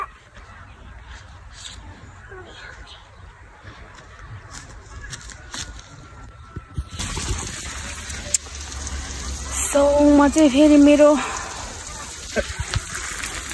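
Water being poured, a steady gushing rush that starts partway through and continues to the end, with someone talking and a brief tonal squeal over it.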